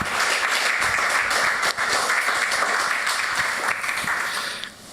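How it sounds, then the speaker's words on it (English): A studio audience gives a warm round of applause for saxophonist Chris Potter, dense, even clapping held close and loud before it tapers off at the end. "But how about a warm round of applause for the great Chris Potter?"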